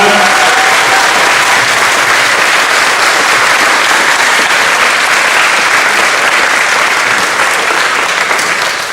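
Sustained, loud applause from an audience at a school Moving Up Day ceremony, a dense, even wash of clapping filling the whole stretch with no voices on top.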